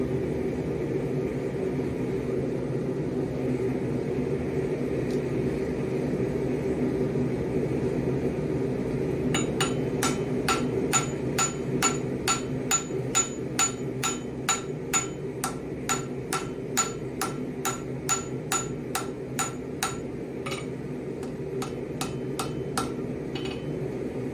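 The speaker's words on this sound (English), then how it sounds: "I'm just going to use the peen of my hammer and try to push material out manually." A hammer peen strikes metal in a quick, even series of bright, ringing clinks over a steady background hum.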